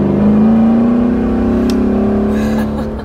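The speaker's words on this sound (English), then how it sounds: "And the exhaust sounds so awesome" A Mercedes-Benz G63 AMG 6x6 revs loudly and steadily up close, its deep exhaust note rising slightly in pitch before easing off.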